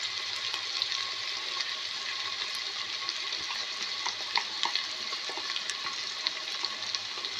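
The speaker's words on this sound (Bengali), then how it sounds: "মশলা ভালো করে নাড়া করে মশলাটা কষাই নিন।" Coriander, turmeric and cumin spices are stirred and fried in a hot pan, giving a steady close sizzle with scraping stir noises throughout and no talking.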